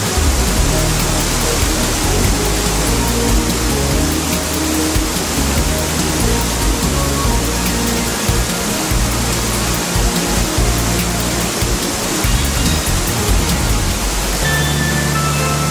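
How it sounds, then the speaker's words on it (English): The Krimml Waterfalls in the Hohe Tauern mountains roar loudly and without a break, a dense rushing wash of falling water that never lets up. "A total of 17 mountain creeks feed the torrential Krimler Acker, as well as the three waterfalls."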